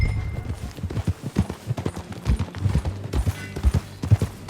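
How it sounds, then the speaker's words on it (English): Horse hooves clip-clop at a steady walking rhythm in the Western video game Red Dead Redemption 2, close and clear with uneven accents and a faint snort or whinny mixed in. "That a new horse?"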